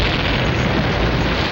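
Loud, sustained blast from a film scene set inside a cave that is sometimes a mine, a dense rumbling roar that fills the whole clip before cutting off abruptly.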